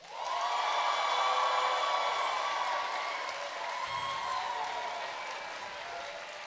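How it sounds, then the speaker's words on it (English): A live podcast audience claps and cheers loudly at a Formula 1 review show, a sustained round of applause with whooping voices that eases slightly toward the end. "Round of applause."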